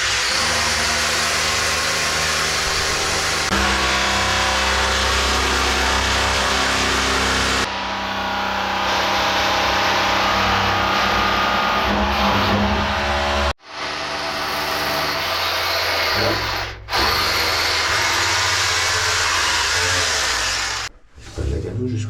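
A rotary hammer drill bores continuously into rock inside a tunnel, loud and close with a steady droning roar that cuts out abruptly twice near the end.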